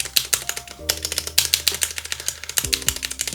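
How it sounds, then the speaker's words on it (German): Rattling clicks of typed keys on an Akko 3087 mechanical keyboard, struck hard in a quick irregular run of close, fairly loud keystrokes with no talking. "wir hören trotzdem Rattle, wenn man eben richtig drauf tippt"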